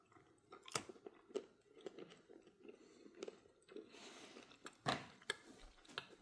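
Jerky from a 2019 Canadian MRE individual meal pack is chewed near the mic, with soft, irregular crunching and biting sounds coming through several louder crisp moments and no talk.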